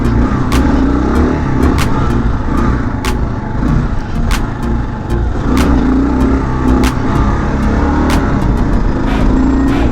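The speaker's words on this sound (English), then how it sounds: "Pull a little wheelie for Lurch here. Show him what the old KLR can do" A Kawasaki KLR adventure motorcycle revs hard as its rider pulls a wheelie. A loud, close engine roar rises and holds, with rough throttle surges and wind buffeting throughout.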